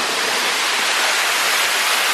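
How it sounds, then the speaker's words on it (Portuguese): Calabouço waterfall in the Palmeiras de Goiás hills, a dense, continuous roar of falling water, loud and close with no pauses. "Cachoeira queda do Calabouço"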